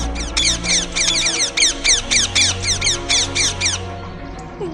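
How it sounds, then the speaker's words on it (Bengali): A rapid series of about a dozen harsh, repeated squawks from a flock of parrots taking off in fright, fading out and leaving a low hum. "আশপাশ দিয়ে এক ঝাঁক টিয়া পাখিও ভয়ে উড়ে যায়।"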